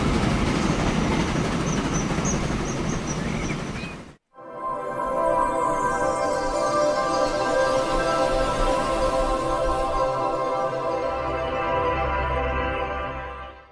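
A freight train in Transport Fever 2 runs along the track, first as a dense rushing rumble, then, after a brief cut, as steady rolling wagons with humming tones and faint clatter, no voices.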